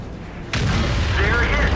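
A single loud booming tank cannon shot from an FV215b (183) tank destroyer in World of Tanks, hitting abruptly after a quieter start, with rumbling tail and a metallic ringing afterward.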